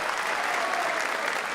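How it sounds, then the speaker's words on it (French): At a boxing event, an audience applauds a boxer with dense, steady clapping that fills the short moment evenly and loudly. "je crois qu'on peut l'applaudir vraiment très fort"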